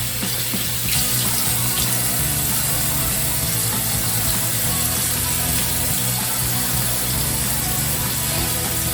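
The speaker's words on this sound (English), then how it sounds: "You keep the water running" Tap water runs steadily into a bathroom sink while shaving, a constant splashing hiss throughout with a faint low hum beneath and no talking.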